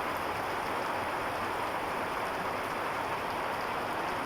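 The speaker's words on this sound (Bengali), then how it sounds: "বৃষ্টির যে ঝুমঝুম শব্দটা, এটা আমার কাছে খুবই ভালো লাগে" Steady rain falls continuously, a dense, even hiss of drops drumming on surfaces nearby, holding at a constant level throughout with no voices.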